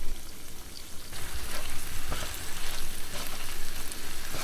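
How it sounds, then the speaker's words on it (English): Tuna, cilantro and green onions fry in oil in a pan, giving a loud, dense and continuous sizzle with a crackling, rain-like texture and occasional stirring scrapes, with no voices. "Put some oil in the pan and you're gonna dump in the tuna"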